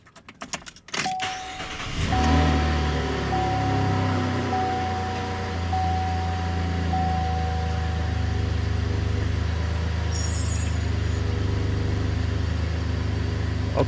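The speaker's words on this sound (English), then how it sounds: "let me actually go ahead and start the truck up" A 2016 Chevy Colorado 4WD pickup cranks briefly and starts, its engine settling into a steady low idle close by, with a faint electronic chime early on and a short high beep later.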